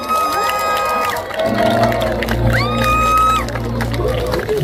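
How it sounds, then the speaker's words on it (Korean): Loud cheering and clapping from an autumn concert audience, with shouts and whoops rising over a crowd; music and voices blend in underneath. "큰 박수 부탁드립니다."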